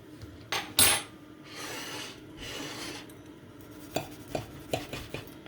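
A grilled cheese sandwich gets flipped in a saucepan with a fork: metallic scraping and rasping against the pan, then a series of quick clinks and taps, moderately close.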